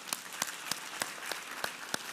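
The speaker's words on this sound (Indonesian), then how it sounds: "Kita beri tepuk tangan untuk kebenaran ini." Applause for a preacher's point during a church sermon, a few slow, distinct claps spaced evenly about a third of a second apart, faint and sparse against a quiet background.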